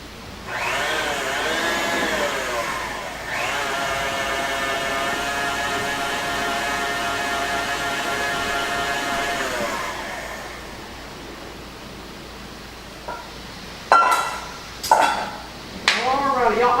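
A KitchenAid stand mixer whirring at low speed while cake batter for a cane syrup cake is mixed, with a steady tonal motor hum for about ten seconds, then fading out, followed by a few brief knocks and clatters.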